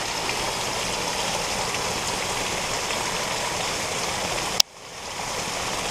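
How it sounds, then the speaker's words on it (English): A sump pump pumps out flood water, a steady rushing gush of water that cuts off abruptly near the end, then a faint hiss returns. "There goes the pump."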